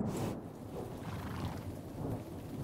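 A cartoon thunderstorm rumbles with thunder over steady falling rain in a short, dense burst of storm noise with no voices.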